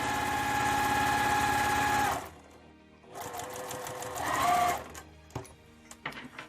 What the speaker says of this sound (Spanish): Y sostengo con los dedos mientras voy cosiendo.